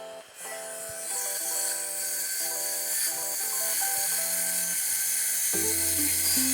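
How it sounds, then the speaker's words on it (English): 18V circular saw straining through thick material, a steady high whine with a fluctuating pitch that sounds close and loud and continues throughout, with no talking. "let's have a little look at the 18V circular saw"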